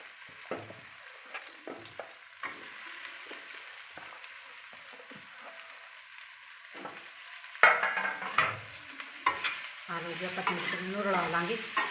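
Amla (Indian gooseberry) fries in desi ghee in a pan while being stirred, with intermittent scrapes and clunks, then louder, denser sizzling as the fruit goes in and is mixed.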